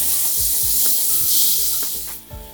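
Spaghetti with chopped parsley and cracked pepper is tossed and stirred in a hot pan, giving close, continuous sizzling and rubbing scrapes with a few soft knocks, and no talk.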